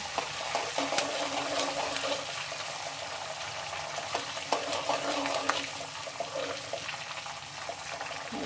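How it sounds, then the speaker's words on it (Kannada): Chana dal browning in hot oil over a low flame as tempering for tamarind rice gives a steady, close sizzle with occasional soft stirring clicks, with no speech. "ಕಡಲೆಬೇಳೆಲ್ಲ ಸ್ವಲ್ಪ ಬ್ರೌನ್ ಕಲರ್ ಆಗೋವರೆಗೂ ಸ್ವಲ್ಪ ಫ್ರೈ ಮಾಡ್ಕೊಳ್ಳಿ."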